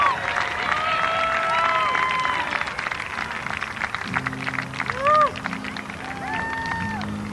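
A large crowd applauds and cheers continuously at a Hall of Fame induction during an ultimate frisbee game, with scattered shouts and voices rising through the clapping.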